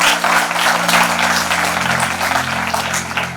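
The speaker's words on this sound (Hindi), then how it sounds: "आप एक बार जोरदार तालियों से।" Loud audience applause at a Mann Ki Baat marathon seminar, dense continuous clapping that stays strong throughout, with a low hum underneath.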